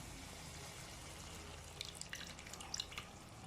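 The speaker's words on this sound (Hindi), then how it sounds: "इसमें अभी मैं डालने लगी हूँ जो मैंने इमली का पानी निकाल के रखा था।" Tamarind water is poured into a pot of khatta gosht, a sour meat curry, giving a very faint, soft trickle with a few light drips and splashes near the end, with no talking.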